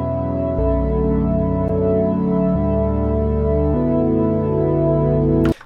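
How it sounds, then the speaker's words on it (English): Serum synth pad, a modified Darkmind pad, heard dry without processing: a sustained, dense low chord holding steadily and shifting chords every couple of seconds, loud and unbroken before a brief noisy cutoff at the end. "So this is a Serum patch. This is actually a modified version of the pad from Darkmind"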